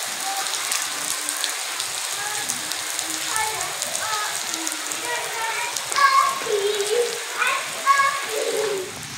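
Heavy rain pours steadily over a village in Azad Kashmir, a constant hiss of drops on surfaces with occasional splashes and faint bird chirps; a voice is briefly heard.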